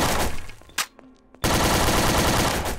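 An animatronic in the Garry's Mod FNAF co-op game lets out a loud, harsh, crackling blast, broken by a brief quieter gap before the roar resumes at full strength.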